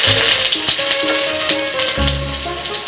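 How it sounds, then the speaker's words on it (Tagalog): Garlic sizzles and fries in hot cooking oil in a pan, the start of a chicken tinola; a steady, close crackling hiss with a few soft clinks, and no voices. "Igisa na po natin ang bawang"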